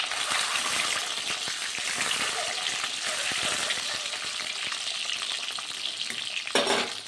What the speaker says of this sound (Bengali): এখানে ডিমটা এবার আস্তে আস্তে ছেড়ে দেবো। আমার ডিমটা ভাজা অলরেডি হয়ে গেছে, একটা পিঠ গোল্ডেন ব্রাউন হয়ে গেছে।